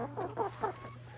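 Several soft clucks from chickens close by, a short burst of low murmuring calls over a steady background hum.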